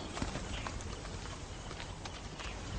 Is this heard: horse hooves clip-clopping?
yes